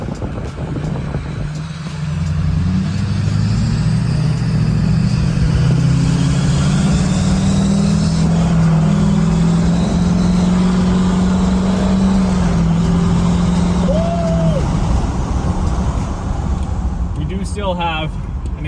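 Duramax diesel truck pulling hard under acceleration, its engine roaring steadily close up while a thin exhaust-leak squeal from a failing uppipe gasket rises briefly near the end as the revs fall away.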